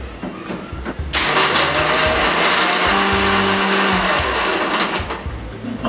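A blender whirls bananas, milk, ice cubes and a vanilla scoop into a milkshake. A loud, steady motor roar kicks in after a second of quieter handling sounds and runs on continuously.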